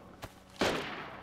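Gunfire in the DayZ video game: a short sharp report, then a louder burst that trails off into a brief echoing tail.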